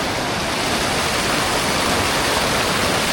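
A waterfall in the Sahyadri hills near Chiplun roars as a dense, unbroken rush of falling water, loud and close, with no other sounds.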